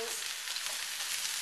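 Fried rice being stir-fried with egg and spring onions, a brief steady hiss of sizzling with a little stirring.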